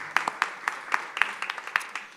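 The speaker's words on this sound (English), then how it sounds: "Let's give them a round of applause" Scattered audience applause at a startup competition event, a handful of distinct nearby claps in an uneven rhythm over a soft background of more distant clapping, brief and fairly thin.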